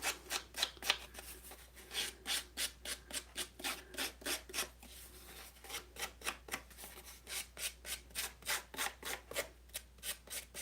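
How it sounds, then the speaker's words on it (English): Paper edge being roughed up with metal snips in papercraft: a steady series of short scraping strokes, quick and rhythmic, close and fairly quiet, with no talking. "I'm going to take my snips. We're going to rough that up."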